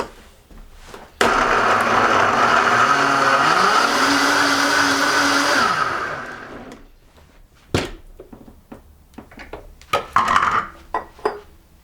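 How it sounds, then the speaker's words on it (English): Blender whirring through a smoothie of blueberry, dandelion, banana, apple with seeds, ginger and water, a loud steady motor run of about five seconds whose pitch climbs as it spins up, then stops, followed by a few clinks and knocks. "And we blend."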